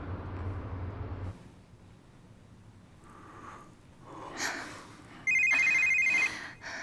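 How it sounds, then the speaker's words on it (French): A telephone rings in a domestic scene, its electronic bell bursting out loud near the end after quieter background movement and breathing, a single sustained ring of about one second. "Oh, toi et ce satané téléphone, ne réponds pas."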